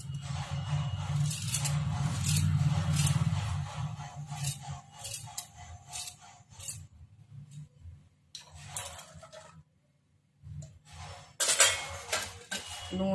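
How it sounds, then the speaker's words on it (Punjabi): Ginger is cut with a knife on a hard surface in a kitchen, making close scraping and clinking strokes in irregular bursts with a brief quiet pause partway through. "ਅਦਰਕ ਨੂੰ ਆਪਾਂ ਕੱਟ ਲਵਾਂਗੇ"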